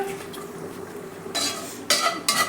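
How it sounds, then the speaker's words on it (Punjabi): Cumin seeds and a bay leaf crackling in hot oil in a pan, with a steady low sizzle that swells into louder hissing bursts toward the end, close and without voices. "ਇੱਥੇ ਜੀਰਾ ਤਿੜਕ ਗਿਆ ਹੈ"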